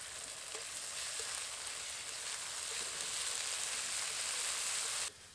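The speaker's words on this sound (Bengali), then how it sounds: "এবার এর মধ্যে দিয়ে দেবো আদা আর রসুন বাটা।" Ginger and garlic paste fries in hot oil in a wok with a loud, even hiss, a couple of faint stirring scrapes, and the sizzle stops abruptly near the end.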